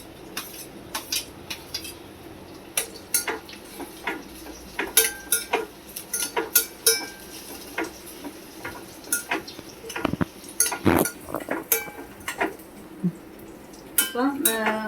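Onion and green chilli sauté in a pan: a spoon scrapes and clinks against the metal in uneven bursts over a soft, steady sizzle, close and fairly loud, with no talk.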